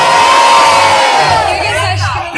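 Crowd at a freestyle rap battle semifinal of a Santo Amaro street cultural circle cheering and shouting loudly and continuously, a dense roar of many voices close by throughout.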